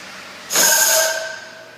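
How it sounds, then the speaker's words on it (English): A loud pneumatic hiss bursts out as the table of a 120-inch horizontal seam welder opens after a weld finishes, holding for about half a second with a tonal whistle before tapering off. "Weld is complete. Table's opening up."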